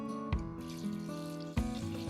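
Water gushes into a metal pot nearby, its pitch rising as the pot fills, with a couple of sharp splashes.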